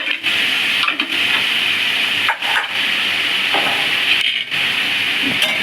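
Chicken poured into a hot pan over raised heat sizzles loudly and steadily, a dense hiss with brief dips as pieces shift, no voice over it.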